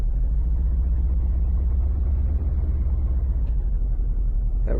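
Car engine in BeamNG.drive with the gas pedal floored, a steady loud low rumble droning throughout, no voices.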